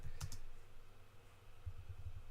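Rapid clicks of a computer keyboard as someone types a command while playing Minecraft: a short burst of close keystrokes, a pause, then another quick flurry of taps.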